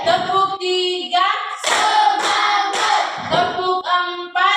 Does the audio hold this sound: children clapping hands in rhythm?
yes